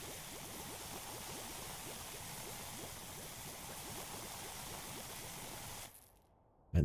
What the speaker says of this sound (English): Spray it down with soap.